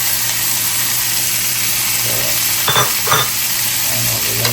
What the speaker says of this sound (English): any moisture in the green beans will probably splatter once it hits the butter and the garlic